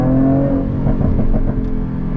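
A Jaguar F-Type P380 R-Dynamic engine revs with audible intake noise, a close, loud rumbling burst that rises in short pulses before settling.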